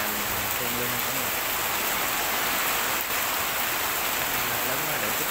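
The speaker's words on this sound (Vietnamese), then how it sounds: "Mưa lớn quá rồi anh quê chia sẻ đến cả nhà mình thương luôn cả nhà." Heavy rain pours steadily on a rural Vietnamese countryside setting, a dense, continuous roar of drops hitting surfaces throughout, close and loud, with a faint low hum underneath.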